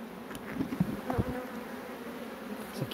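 A strong colony of honeybees formed by merging two swarms hums and buzzes steadily inside a hive in an apiary, with individual bees passing close by.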